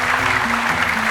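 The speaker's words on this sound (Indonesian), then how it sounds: "Tepuk tangan untuk Syekh Ali Jaber." Studio audience at an Indonesian Quran-recitation talent show claps in a continuous, loud, dense wash with no talk over it.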